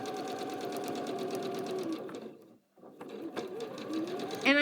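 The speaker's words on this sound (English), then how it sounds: "So I'm going to start sewing." Sewing machine stitching quilting fabric for a quilt, a steady rapid mechanical whir with a brief pause midway before resuming and ending on a sharp high rattle.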